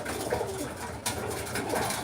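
Young pigeons coo softly while feeding on barley in a loft, their low murmuring calls repeating steadily over a constant background of rustling and bird noise, close to the microphone.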